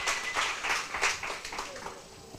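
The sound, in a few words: audience applause at a business workshop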